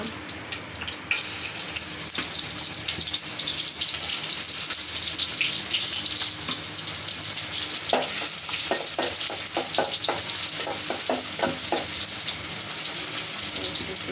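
Chopped onion dropped into hot mustard oil in a pot sizzles steadily and loudly throughout, with a brief quieter start and scattered crackles and scraping stir sounds later, close up and with no talk.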